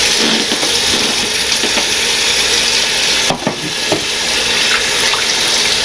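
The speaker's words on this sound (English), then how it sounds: "Okay, so wash your hands again." Tap water running into a kitchen sink as hands are washed during Christmas dinner cooking, a loud steady close rush with brief splashes and a small clatter partway through.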